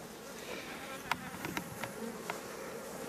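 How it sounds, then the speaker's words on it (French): Honey bees buzzing in a hive super during the honey harvest, a close, continuous drone with several brief sharper wingbeat bursts as individual bees pass near, no voices. "On voit les abeilles dans la hausse."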